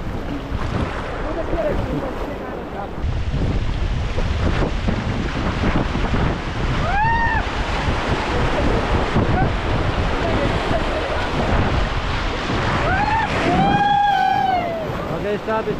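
River rapids on the Trishuli roar around a raft, with constant loud rushing water and wind buffeting, while voices shout and call out over the noise.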